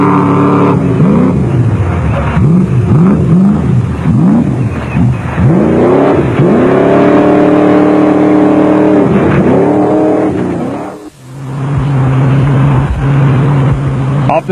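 A Jeep Cherokee off-road rally car drives a stage of the PMC Rally in South Africa, its engine revving hard and then dropping off in quick repeated gear changes. It stays loud and close, dips briefly, then settles into a steady drone.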